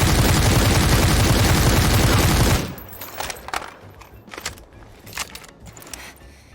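Automatic gunfire from a rifle fitted with angled grips in the Super People video game: a loud, rapid continuous burst for a couple of seconds, then quieter scattered clicks and shots trailing off.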